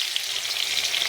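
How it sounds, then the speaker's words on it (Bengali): Chopped onion, one large bulb, frying in hot oil in a pan, giving a close, steady, even sizzle that hisses on without a break. "পেঁয়াজটা হালকা বাদামি করে ভেজে নেব।"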